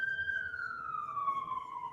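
A steady siren wails from a hospital up a hill, one long tone sliding slowly downward and carrying clearly at moderate distance with no talk over it.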